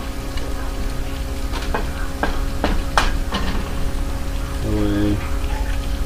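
Eggs sizzle in two frying pans on a kitchen stove, a steady close crackle with a few sharp scrapes or taps from a utensil and a brief tonal clink near the end.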